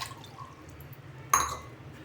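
A single short splash of water poured from a cup into a bowl while making a homemade jasmine-flower hair colour, close and brief against a quiet room.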